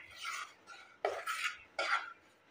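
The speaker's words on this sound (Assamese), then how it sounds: "মিডিয়াম ফ্লেমত এইদৰে মই ভালদৰে ভাজি ল'ম।" Gram flour (besan) roasts in a pan over a medium flame for barfi, with a spoon scraping and stirring it in several short, rasping strokes, close and soft, with no one talking.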